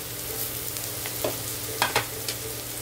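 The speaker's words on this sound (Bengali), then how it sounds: "তো প্রথমে হালকা করে ভেজে নেবো।" Onions sizzle and fry in a pan, a low steady crackle with a few brief stirring scrapes and clicks of a utensil against the pan near the end.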